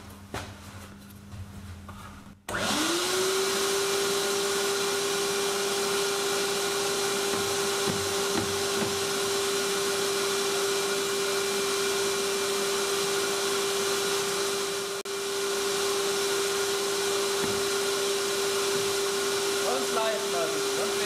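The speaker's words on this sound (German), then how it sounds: "So, Versuch Nummer 2 mit dem Staubsauger." Vacuum cleaner supplying suction to a homemade vacuum table switches on after a brief low hum and runs as a loud, steady whine with a constant pitch to the end.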